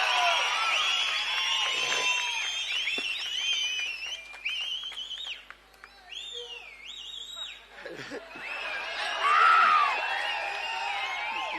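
Crowd at an outdoor political rally at Gingee fort shouting, whooping and cheering in waves, loud and sustained with a few sharp cries standing out, no clear speech over it.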